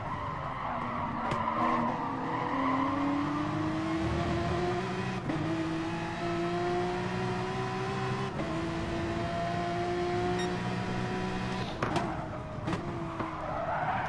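Porsche Cup race cars in Gran Turismo Sport at Autopolis: a sustained tyre squeal as a car spins, sliding pitches over a steady engine drone, loud and continuous with a few sharp scuffs.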